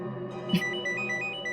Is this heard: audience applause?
no